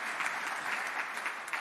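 Audience applause at a community health center's public annual meeting, a dense, steady wash of many hands clapping from a crowd, sustained and fairly even throughout with no talk over it.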